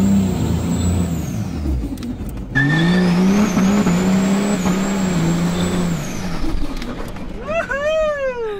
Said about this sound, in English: listen to the a little two-wheel drive launch